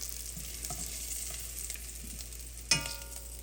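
Parsnips fry in oil in a pan with a steady, close sizzle and crackle, broken near the end by a single sharp clink of a utensil.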